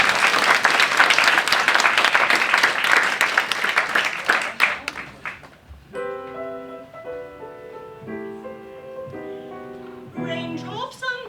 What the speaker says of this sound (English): Give him one more hand, one more round of applause.